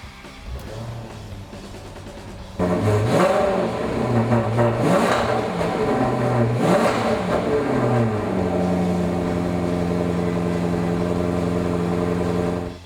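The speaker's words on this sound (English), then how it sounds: "How about I fire it up for you so you can hear what it sounds like?" A 2007 Maserati Quattoporte sedan engine cranks and catches after a quiet stretch, then revs up sharply several times before settling into a steady, loud idle, close by with no talk.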